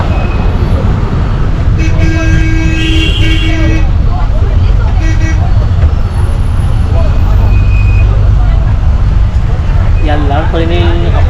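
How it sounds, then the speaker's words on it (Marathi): Red state transport bus setting off from Solapur, its engine rumbling steadily amid road traffic with a few horn toots, while someone talks over the noise throughout. "तर सोलापुरातून आपली गाडी निघाली आहे आता."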